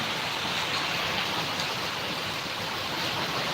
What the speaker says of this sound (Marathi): खूप पाऊस चालू आहे दादा रात्रपासून पाऊस चालू आहे